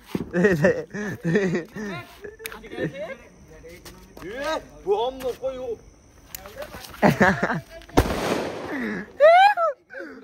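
A Diwali firecracker goes off with one sharp, noisy burst among children who are shouting and chattering excitedly nearby, their voices carrying on around the pop before and after it.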